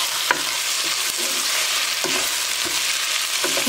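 Ingredients for Afghan Kabuli pulao sizzle steadily in a hot pan while a utensil scrapes and taps against it now and then, close and continuous.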